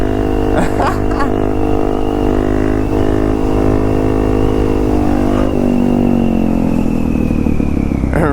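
A Suzuki DR-Z400S motorcycle engine holds a loud, close, high-revving drone while the bike wheelies from stoplight to stoplight on the street, with a few brief clattering knocks early on.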